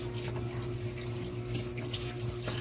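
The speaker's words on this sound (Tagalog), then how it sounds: "hugasan natin ang alokbate" Tap water runs steadily into a sink as alugbati (Malabar spinach) greens are washed, a close continuous rushing stream with light splashing from handling the leaves, no talk.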